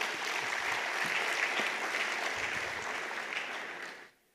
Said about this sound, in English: clap for this.